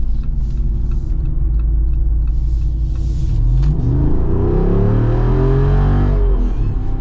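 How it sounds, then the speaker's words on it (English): A 2025 Jeep Wrangler 392 with a big naturally aspirated V8 accelerates hard, a loud, close, deep rumble swelling into rising revs with a strong low end, no voices. "you got a big naturally aspirated V8, so you got quick response, and then you just got this strong low end"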